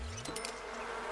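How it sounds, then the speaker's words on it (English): Bees buzzing in The Sims 4 as an irritated hive is tended, a soft steady drone of several insects humming alone at low volume. "Bond with bees. I think they're irritated."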